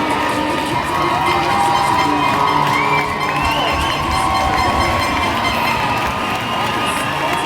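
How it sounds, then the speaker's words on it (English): Hockey arena crowd at a high school championship game, a loud sustained roar of cheering and shouting after a timeout, dense and continuous throughout. "the crowd came out pumped up after that timeout anyways"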